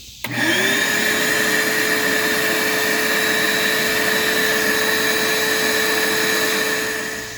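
A powered air pump switches on with a quick rising whine and then drones steadily and loudly while deflating an air bag wedge used for lifting a hot tub spa, the hum running unbroken for about seven seconds.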